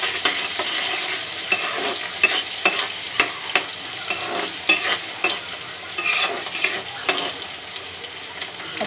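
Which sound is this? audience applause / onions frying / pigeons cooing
onions frying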